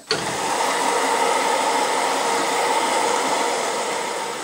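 A fixed-post grinding machine for a 20-inch quartz telescope mirror starts with a click and runs for a few seconds as a loud, steady whirring hum.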